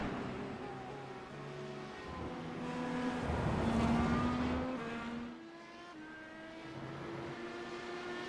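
Several IndyCar race cars at Road America in iRacing, engines droning and shifting pitch as they pass through a fast kink, a steady mid-distance roar that swells around the middle and then eases.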